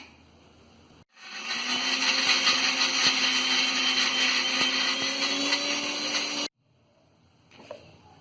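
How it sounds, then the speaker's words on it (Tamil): A kitchen mixer jar grinds peeled almonds with milk into a paste, a loud steady electric whir that starts abruptly, holds for about five seconds with a slowly rising pitch, then cuts off into quiet. "இனி இது ஒரு ஜார்ல போட்டு நல்லா பேஸ்ட் மாதிரி அரைச்சு எடுத்துக்கலாம்"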